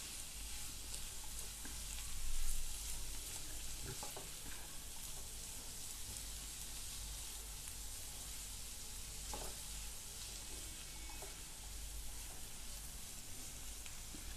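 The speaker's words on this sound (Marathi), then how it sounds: "हेही व्यवस्थित परतवून घेऊया." Whole tomato sautéing in a pan for a Banari rassa vada bhaji curry: a steady, close, loud sizzle runs throughout, with a few stirring scrapes and no talk.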